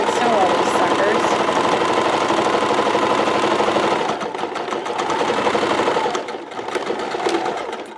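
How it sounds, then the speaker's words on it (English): A sewing machine chain sewing quilt pieces runs in a loud, continuous rapid mechanical whir, close up, easing briefly near the end before picking up again. "I just chain sew all these"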